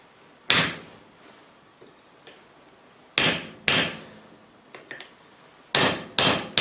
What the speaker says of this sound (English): take a chisel and run it down the center